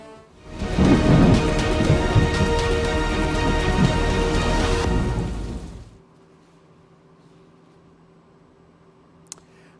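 Heavy unseasonal rain with thunder pours loudly over Gujarat for about six seconds, then cuts to near quiet with a faint background hum and one brief sharp click at the end.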